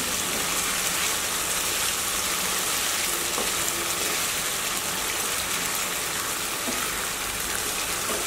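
Water is poured into a Bengali-style sour aair fish curry cooking in a pan, making a steady hissing gush with a faint sizzle. The sound is even and continuous, and no voices are heard.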